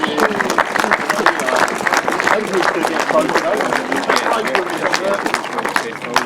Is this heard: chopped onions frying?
no